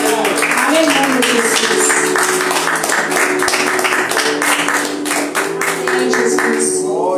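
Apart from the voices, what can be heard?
church congregation applauding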